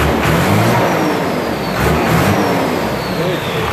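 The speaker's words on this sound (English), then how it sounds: "gonna give her a rev." A 1990 Ford F250 pickup with a Cummins 5.9L diesel and manual transmission revs loudly and close up, its engine rumble swelling and easing across a few seconds with a broad noisy roar.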